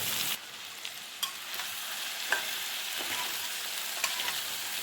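Fish frying in a pan with vegetables being mixed in, a steady loud sizzle with occasional sharp clinks and scrapes of stirring, close up and without speech.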